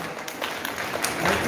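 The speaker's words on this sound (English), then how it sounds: "a big round of applause to all" A room of people at a Philippine modelling and pageant workshop breaks into a steady round of clapping, sustained for the full stretch and swelling slightly toward the end.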